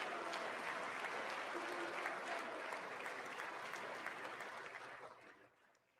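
Chamber audience at the State of the Union applauds in a broad, sustained roar of clapping that holds for several seconds, then tapers off and fades near the end.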